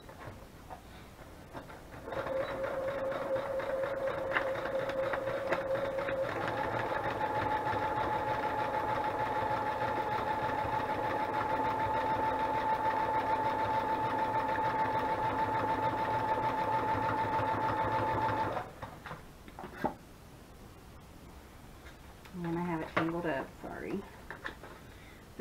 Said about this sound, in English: I'm going to go ahead and just sew them.